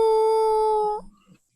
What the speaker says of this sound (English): dogs or wolves barking and howling.